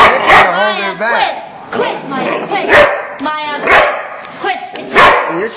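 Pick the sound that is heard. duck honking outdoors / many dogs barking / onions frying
many dogs barking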